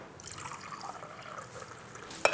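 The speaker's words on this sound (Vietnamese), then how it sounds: "Để em rót cho mà." Water poured into a glass at home, a soft steady trickle and fill heard faintly and close for about two seconds, ending with a brief clink.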